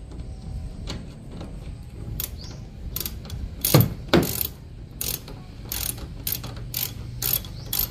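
Socket wrench ratcheting while a tail light is fitted to a 2018 Toyota Hilux Conquest pickup, heard as short clicking bursts repeated at an irregular pace, with two louder strokes near the middle over a steady low background.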